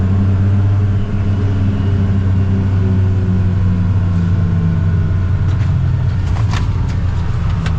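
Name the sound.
tire noise of Polaris Ranger XD 1500 side-by-side driving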